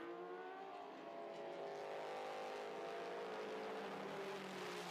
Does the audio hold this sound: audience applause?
no